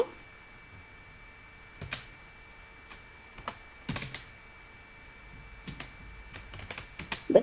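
Bangla text typed in MS Word on a computer keyboard, sparse quiet key taps scattered irregularly against a faint background, with no voice over it.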